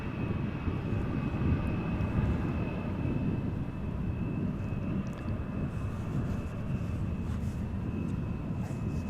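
An Embraer airliner arrives at Amsterdam Schiphol Airport, a distant, steady engine rumble with a faint high whine that holds throughout.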